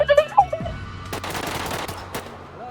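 Gunfire in the video game GTA V roleplay, a rapid burst of shots in the middle of the clip after a short voice at the start, fairly close and sharp.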